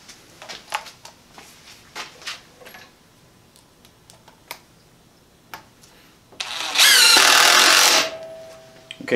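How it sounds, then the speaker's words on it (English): A single loud burst of a Porter-Cable cordless drill driver driving a fastener, spinning for about a second and a half, following scattered small taps and clicks. "Let's grab the Porter Cable."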